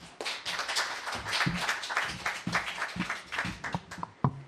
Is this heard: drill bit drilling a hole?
no